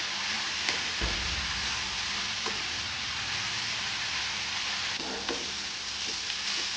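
Garlic and ginger sauté in a pan with onion and tomato for a dhaba-style milk shev bhaji gravy, a steady, moderately loud sizzle with occasional stirring clicks and no voice.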